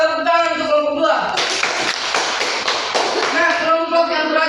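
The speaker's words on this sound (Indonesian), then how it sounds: "Tepuk tangan untuk kelompok 2." Students in a classroom applaud a group after its presentation during a microteaching lesson: a short, dense burst of clapping rises between voices and fades as talking resumes.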